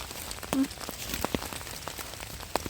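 Rain falling in a German forest in winter, a soft steady patter with scattered louder drops and taps close by, no voices.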